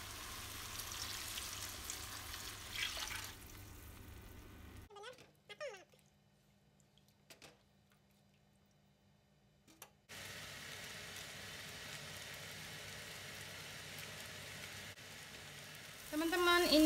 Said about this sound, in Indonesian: Ditumis sampai benar-benar matang, baru nanti ditambahkan sedikit air